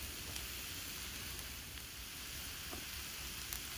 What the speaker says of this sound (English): There we are, lots of sizzle